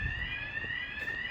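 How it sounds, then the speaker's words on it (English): A building alarm rings on an old shopping street, a steady, high electronic tone held without a break at a moderate distance, with faint street noise underneath. "God knows how long that alarm's been going off."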